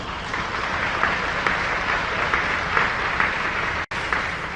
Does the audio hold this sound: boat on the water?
no